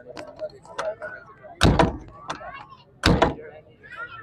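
Doors of an old Suzuki FX hatchback thunk shut twice in close succession, loud and near, amid lighter handling clicks and someone talking in the background.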